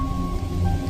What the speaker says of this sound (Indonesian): Di luar hujan turun masih sangat lebat,